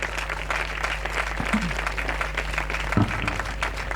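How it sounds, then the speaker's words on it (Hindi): Audience applause welcoming an apostle at the Freedom Celebration 2022 church event in Amritsar, a dense crowd clapping in a steady roar over a low hum, with a couple of brief thuds standing out. "हम जोरदार तालियों के साथ में हमारा अपोस्तल जी का हम स्वागत करें"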